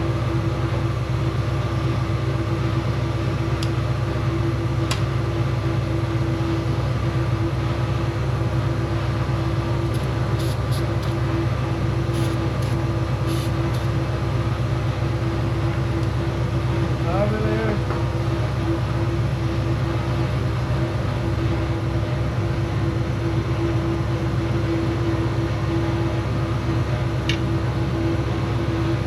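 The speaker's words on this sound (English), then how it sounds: "Sorry for the compressor noise." Air compressor droning steadily in a home garage during work on a 1977 Corvette, a constant loud mechanical hum with a faint clink or two on top and no talking.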